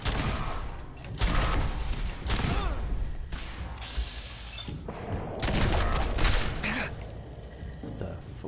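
Gunfire in Fallout 4 crackles in repeated bursts and scattered shots, loud and close, mixed with other game noise and with a voice talking over parts of it.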